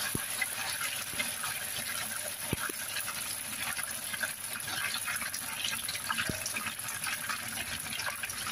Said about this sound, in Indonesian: panaskan minyak kita goreng sampai kuning kecoklatan